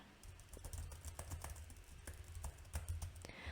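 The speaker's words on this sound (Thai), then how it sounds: "เราจะใช้คีย์บอร์ดให้ฟัง" Quick, light clicking of laptop keys in uneven bursts, close and soft, with a steady rapid rhythm of typing.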